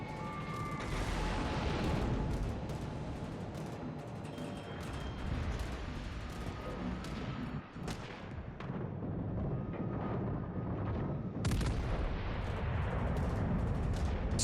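Cruiser guns fire in the World of Warships naval game, heavy booming salvos and rumbling blasts layered over a dense, constant roar of in-game battle noise.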